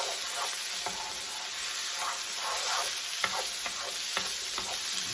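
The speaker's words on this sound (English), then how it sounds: "now we're going to put in our chopped peppers" Chopped peppers sizzle in a paella pan in a steady, bright frying hiss, with occasional soft stirring scrapes and taps over it and nobody speaking.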